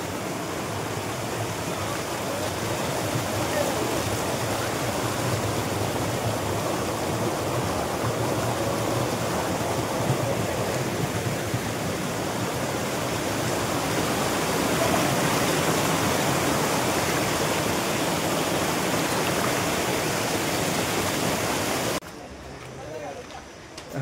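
Monsoon waterfall on Parasnath Hill, a dense continuous roar of rushing, gurgling water filling the scene at close range for about twenty-two seconds before cutting off abruptly near the end.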